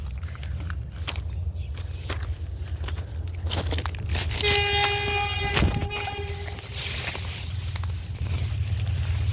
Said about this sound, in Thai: นี่นะครับรถไฟขบวน